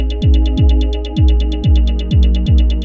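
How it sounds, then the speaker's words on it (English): A monotonous, robotic electronic beat made in Ableton Live, with loud, evenly spaced booming kicks roughly every half second under a steady ticking hi-hat pulse and a droning sustained tone. "some rather monotonous and robotic beat like this"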